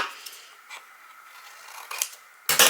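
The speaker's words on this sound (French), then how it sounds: "Donc là je vais couper" Scissors snipping a 30x30 cm paper sheet for a mini booklet, a few soft cuts followed by a sharp, louder snip at the end, close and clear with no talk.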